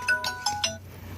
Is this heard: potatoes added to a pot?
no